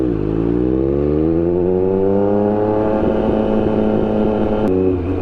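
Triumph Street Triple 765 RS motorcycle engine riding through the city, its loud, close tone rising steadily in pitch as it accelerates, then settling into a rougher steady drone with a brief sharp click near the end.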